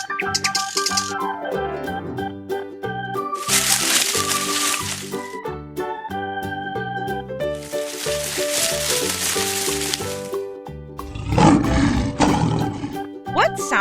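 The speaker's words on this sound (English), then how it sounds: "Right, it's a lion." A lion roars deep and rough near the end, set against a busy stretch of bright, playful music that fills most of the sound.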